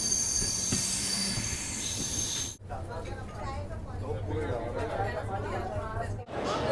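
A Bharat Gaurav AC deluxe tourist train rolls along the rails with loud, sustained wheel squeal and steady rumble, while a crowd chatters in the background.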